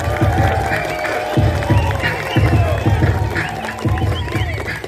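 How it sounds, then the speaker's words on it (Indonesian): Inmates and guests applaud at a hip-hop performance inside Merauke prison, clapping and cheering mixed with loud rhythmic music and crowd noise. "boleh beri tepuk tangan"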